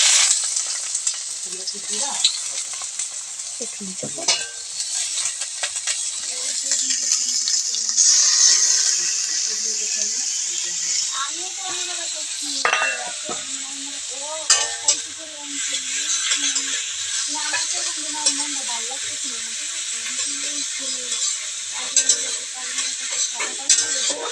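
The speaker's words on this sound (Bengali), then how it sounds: "এখন তেলটা গরম হয়ে যাবে আর আমরা পেঁয়াজ দিয়ে দিব।" Onions fry in hot oil in a pan, a steady bright sizzle with occasional stirring and utensil scrapes throughout, close and fairly loud, with a faint voice now and then.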